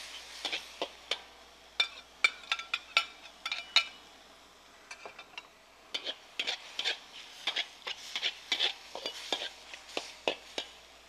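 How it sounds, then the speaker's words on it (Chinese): A metal spatula scrapes and clinks against a wok as sea cucumber is stir-fried with ginger oil, irregular sharp clatters in quick bursts over a faint quiet background. "就这样子把它爆炒一下"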